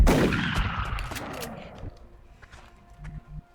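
Gunfire in the XCOM: Art of War video game, a loud opening blast with rattling shots that decays into a quieter tail of echoes and small clicks.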